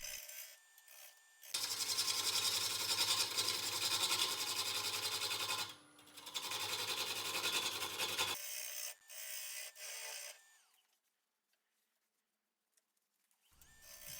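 A cherry burl bowl spinning on a wood lathe at around 640 rpm, the tool scraping and rasping against the uneven burl in long loud stretches, broken by pauses and a final quiet gap before cutting resumes.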